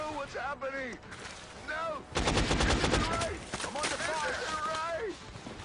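Rapid bursts of automatic gunfire from soldiers in the video game X-COM crackle loudly for several seconds, framed by short spoken phrases before and after.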